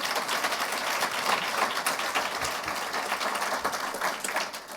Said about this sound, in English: Would you join me in giving them a round of applause?